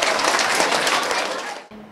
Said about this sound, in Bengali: জোরে সবাই একটি হাততালি দেই আবারও